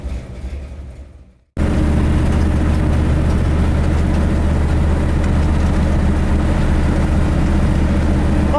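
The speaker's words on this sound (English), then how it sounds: "Okay, so here I am driving the car." A gasser hot rod with a cooling problem is driven on a test drive; after a brief quieter moment, a loud steady low engine drone and road rumble fill the rest continuously.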